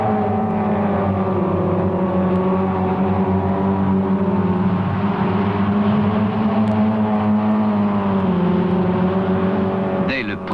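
A pack of 1966 Renault R8 Gordini race cars roars in a steady, loud, continuous engine drone with slight pitch shifts as they run bumper to bumper in a race.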